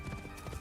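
A mount horse gallops in the video game Assassin's Creed Shadows, its rapid clip-clop hoofbeats loud and close over a dense, continuous game soundscape.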